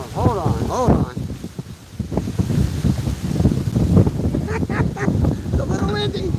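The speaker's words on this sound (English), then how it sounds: "It's a little windy." Steady wind buffets the microphone outdoors, a loud continuous rumble under several people chatting throughout.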